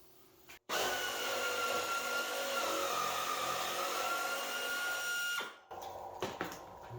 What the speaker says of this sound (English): I don't recommend using your power tools to slam bolts out of the way